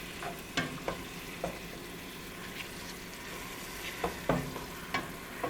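Chicken biryani ingredients stirred in a pot over a steady sizzle, with intermittent scraping and clinking of a spoon against the pot, close and moderately quiet.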